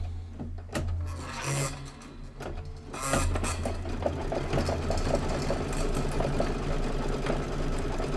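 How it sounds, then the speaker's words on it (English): A sewing machine stitches a decorative pattern on a quilting project, a close rapid mechanical whir with repeating thumps, pausing briefly before running steadily again. "Go ahead and do the decorative stitch around it."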